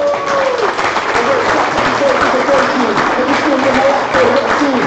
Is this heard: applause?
yes